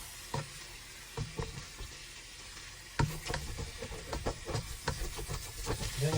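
Onion frying with ginger and garlic in a pan for chicken tinola: a soft sizzle jumps louder midway as more goes in, then a steady crackling hiss with stirring scrapes, close and alone.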